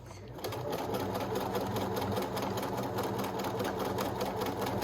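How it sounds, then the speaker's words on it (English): A sewing machine runs steadily and close, its fast needle rhythm humming continuously while edge-stitching the crown of a bucket hat. "The whole point of stitching this is so that you are stitching into the seam allowance that is underneath."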